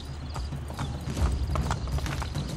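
Rapid clip-clop of horse hooves at a steady gallop in Assassin's Creed Brotherhood, close and continuous, with a faint whinny mixed into the busy game soundscape.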